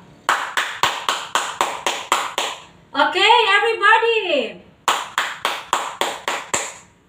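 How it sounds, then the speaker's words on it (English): A grade-school PE class performs the barangay clap: crisp, evenly spaced unison claps, then a brief sung-spoken chant, then another run of steady rhythmic claps, with a teacher's voice briefly heard. "So this is how we do the barangay clap."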